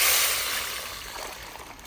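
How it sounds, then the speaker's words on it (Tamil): Tomato rasam mixture is poured into a hot pan, giving a loud rushing hiss that fades gradually over about two seconds. "இப்போ ரசத்துக்கு கலக்குனதை நம்ம ஊற்றிக்கலாம்."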